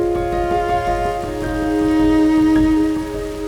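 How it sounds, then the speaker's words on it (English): Rain falls steadily on and off over a big trout river in Patagonia during a fly fishing outing, a soft continuous patter with scattered droplet ticks, close and fairly loud, with strong steady tonal hum running underneath. "Today, we've got rain on and off."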